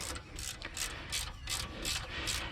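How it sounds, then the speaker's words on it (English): A ratchet with a long socket turns turbocharger bolts on a 2007 Freightliner Columbia truck, making a loud, rapid, rhythmic clicking in several regular bursts close by. "I went and got my other ratchet with a longer socket."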